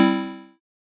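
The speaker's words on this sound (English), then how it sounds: "increasing the release knob causes the sound to trail off after I release the key." A single sustained synthesizer note with a long release setting, its harmonic-rich tone holding briefly then fading smoothly to silence over about half a second, heard alone.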